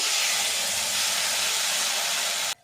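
Mustard and poppy seed paste hits a hot wok with a loud, steady steaming hiss that holds for over two seconds, then cuts off abruptly near the end.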